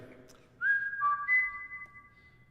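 A person whistles a short tune from a song, clear and close, with a few sustained, sliding notes carrying a touch of added room echo in an otherwise quiet space.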